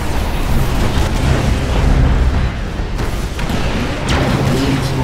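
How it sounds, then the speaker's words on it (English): Loud, dense booming blasts from a Tiberium explosion in the real-time strategy game Command & Conquer 3: Kane's Wrath, during a skirmish battle on the Island Paradise map, with sustained rumbling over a continuous battle din. "Tiberium explosion detected."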